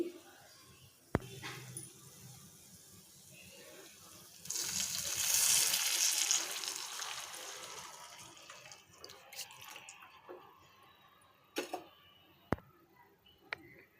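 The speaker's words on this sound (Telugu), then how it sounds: "ఆ బౌల్తోనే టూ కప్స్ వాటర్ పోసుకోవాలి" Water poured into a pot while making wheat rava upma, a broad rushing pour rising and fading over several seconds with a few sharp knocks before and after, fairly close.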